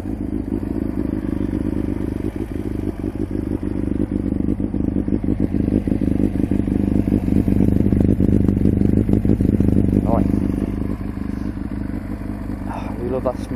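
A 1998 Kawasaki ZX9R idles with a loud, continuous low exhaust rumble from its aftermarket can, a few blips rising near the end.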